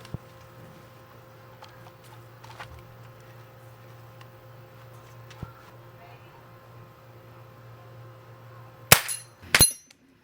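Air rifles in .22 and .177 fire at a 24-yard backyard target, with two sharp cracks close together near the end after a quiet stretch of faint ticks and low background hum.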